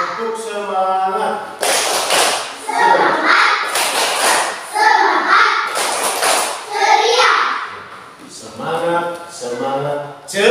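A third-grade class claps along in the Indonesian 'tepuk semangat' chant: children's voices chanting together, broken by bursts of group hand clapping at irregular beats.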